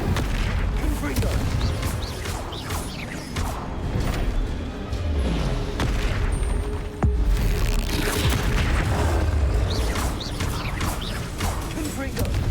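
Confringo spell blasts in Hogwarts Legacy, a series of loud booming explosions over dense, rumbling combat noise, continuous and heavy throughout.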